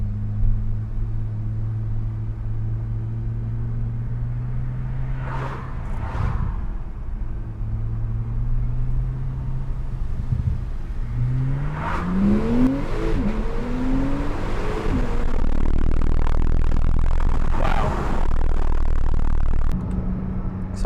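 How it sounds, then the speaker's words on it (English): Porsche 911 Turbo S 991 coupe accelerating from about 10 mph, heard from inside: a low engine rumble swells into a rising rev with a brief shift, then a louder, sustained pull. "Gonna do a little acceleration from around 10 miles an hour."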